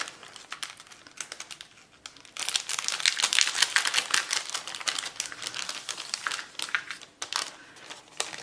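Crinkly paper packet of paper embellishments, wrapped with a crepe-paper flower, being opened by hand: continuous close crackling and rustling that grows louder and busier after a quieter start, with no talking.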